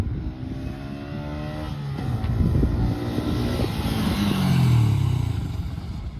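A 125 cc motorcycle, a Honda CB 125 Hornet or TVS Raider 125, runs close by for a braking test, its engine idling then rising and revving louder before easing off, with no talking.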